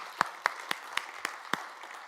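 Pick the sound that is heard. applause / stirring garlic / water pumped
applause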